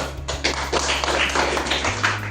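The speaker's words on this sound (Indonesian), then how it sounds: "Oke, tepuk tangan." Students in a school group counselling session clap their hands in a burst of close, uneven claps with a few sharp taps, no talking over it.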